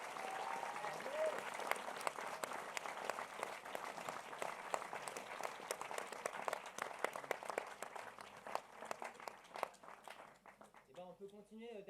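Diners applauding the kitchen team at a restaurant, sustained rapid clapping from a crowd that gradually thins toward the end, with a voice speaking over it near the close.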